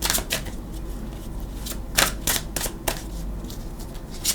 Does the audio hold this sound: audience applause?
no